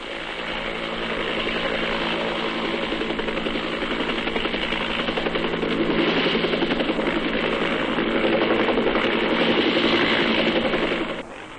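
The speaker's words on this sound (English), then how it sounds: "The RAAF Iroquois squadron flies most of the operational airlifts for the diggers" Military Iroquois helicopters of an Australian air force squadron fly overhead, with a loud, continuous rotor thrum and engine roar that builds slightly and holds steady for several seconds without voices.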